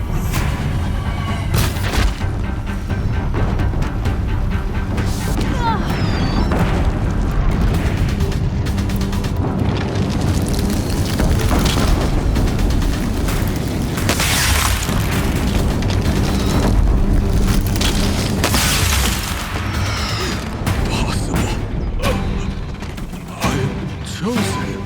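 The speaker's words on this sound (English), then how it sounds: "If the Deathbringers keep firing, this bridge will go." In the Horizon Zero Dawn video game, Deathbringer machines fire in a continuous barrage of loud booming explosions and mechanical clatter on a bridge, a dense roar that never lets up, with faint voices now and then.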